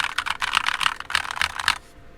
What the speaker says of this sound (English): that's what the keyboard sounds like.